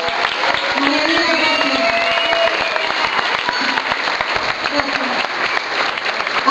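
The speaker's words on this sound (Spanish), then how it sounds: "Un fuerte aplauso para ella." A theatre audience at a live concert applauds a set designer, a sustained burst of crowd clapping with a few scattered cheers and voices mixed in, holding steady throughout.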